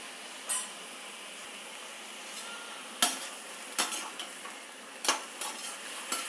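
Vegetable sautéing in a pan with salt and turmeric gives a low, steady sizzle, punctuated by several sharp metallic clinks and scrapes of a spoon against the pan at irregular intervals; no talking.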